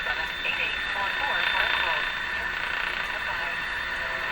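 Loud, steady hiss and static fills the AM band of a 1935 Rogers 7R622 tube radio, a dense broadband noise with faint warbling traces of a buried station and no clear speech.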